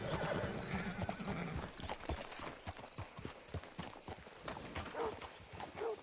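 Horse hooves clip-clop in a steady, uneven rhythm on a hard surface, close by, with a horse whinnying briefly partway through.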